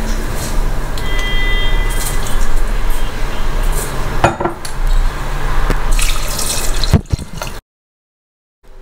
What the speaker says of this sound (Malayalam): ആവശ്യത്തിന് വെള്ളം ഒഴിച്ച് വേവിച്ചെടുക്കണം